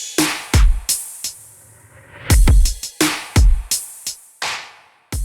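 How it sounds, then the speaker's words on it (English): Drum loop from the Trias preset Beat It Kid: punchy kicks, snappy snares and bright hats in a steady lo-fi groove with a spring-reverb tail, loud and up close, with no voices. "The drums sound like this."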